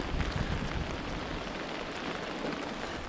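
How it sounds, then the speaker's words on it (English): Rain falls during a wilderness canoe trip in northern Manitoba, a steady broadband hiss of drops with windy rumble underneath, continuous and fairly faint with no voices. "This rain is bringing some strong wind."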